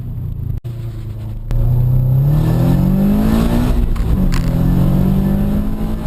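A car revs and accelerates hard through an autocross lap on a wet course, its loud engine note rising steadily in pitch after a brief dip, with tire and spray noise beneath.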